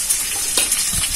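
Tomatoes and chillies frying with soybean in a pan are stirred. A steady, loud sizzle runs throughout, with brief scraping bursts from the stirring and no one talking.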